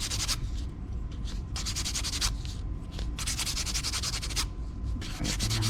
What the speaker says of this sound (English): It's pretty fine sandpaper.